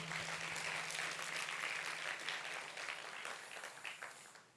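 Korean church congregation applauding during a Sunday worship service, a steady, even patter of many hands heard at a distance, fading slightly toward the end.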